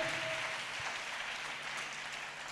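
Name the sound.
audience clapping hands loudly in church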